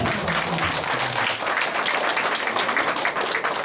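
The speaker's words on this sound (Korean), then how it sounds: "굉장히 저절로 박수가 나오고" Audience applause fills a lecture hall at a cultural talk, a steady dense wash of clapping held at even loudness throughout, with faint murmuring beneath.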